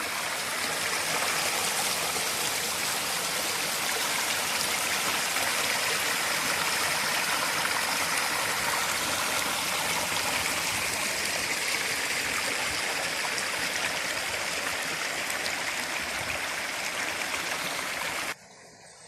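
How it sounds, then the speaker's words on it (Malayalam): Cold water from a stream falls steadily into a rock pool at Mallankuzhi near Kadangode, making a constant close rushing and splashing roar that cuts off at the end. "അതിലൂടെയാണ് വെള്ളം വന്നിട്ട് ഈ കുഴിയിൽ പതിക്കണത്"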